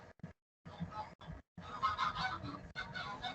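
Geese honking repeatedly in short loud bursts with brief gaps, close and insistent, with no speech over them.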